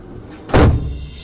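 A big silver door moves once with a sudden heavy thud and rattling rumble, close and loud, followed by a short fading resonance over a low background hum.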